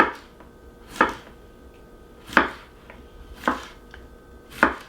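A knife chops through fresh okra pods on a cutting board, giving five sharp, close thuds about a second apart with quiet pauses between them. No one talks.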